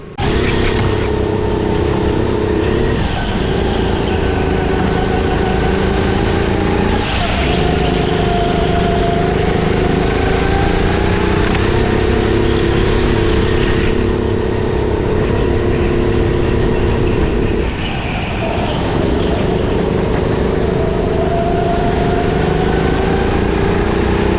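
Race car engine in a racing video game on a fast practice lap, a loud steady drone with rising and falling pitch through gear changes and turns, continuous and close with no talking.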